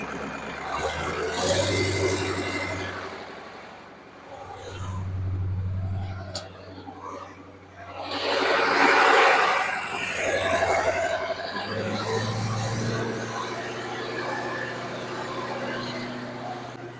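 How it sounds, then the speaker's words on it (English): An old Olson pivot center drive motor runs steadily after being fired up, a continuous low engine drone with pulsing throbs and a louder swell partway through, heard up close without talk. "Alright, so we got this motor fired up."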